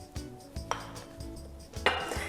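Salted egg yolk dropping into a Thermomix mixing bowl while making butter cookies, a few soft knocks and light clinks close by, with one brighter clatter near the end.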